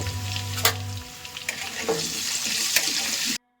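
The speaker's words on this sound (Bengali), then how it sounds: "ওই তেলেতেই আমি আলুগুলোকে একটু ভেজে দেবো লাল করে" Potatoes fry in oil with a pinch of salt and turmeric for a Bengali dalna, making a close, continuous sizzle. A few sharp scraping stirs break through it, and the sound cuts out abruptly just before the end.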